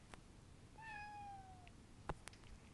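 A single drawn-out meow from a cat sweeps slowly downward, followed by a few sharp clicks and knocks nearby in a quiet room.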